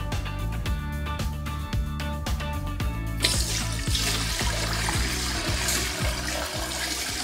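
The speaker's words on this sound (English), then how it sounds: "I'm going to pour some water through our simulated sink. It'll go through the unit." Water poured through a Goslyn grease removal device in a simulated sink, a steady broadband rush that begins a few seconds in and continues to the end, heard over rhythmic background music.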